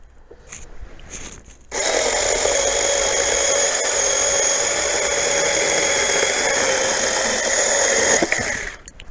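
A repaired Chinese cordless saw with an 18-volt motor starts up after a few clicks and runs in a loud, steady, high-pitched whine for about seven seconds close by, then cuts off.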